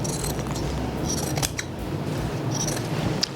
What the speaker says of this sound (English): I'm going to cut the inside along the flat fill seam